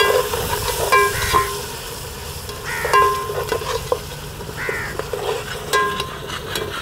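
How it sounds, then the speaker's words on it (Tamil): Ginger and garlic are being stirred in a pan of frying onions for a large batch of pepper chicken, with a steady sizzle under repeated scraping strokes of the spoon. Crows caw clearly in the background. "இப்போ ஒரு 50 கிராம் இஞ்சி, 25 கிராம் பூண்டு போட்டு பெரட்டுறோம்."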